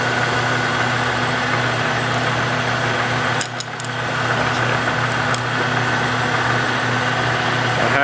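A milling machine climb mills the wooden sides of a custom banjo, a loud steady motor drone with cutting noise, close and continuous, dipping briefly midway before resuming, with no talk.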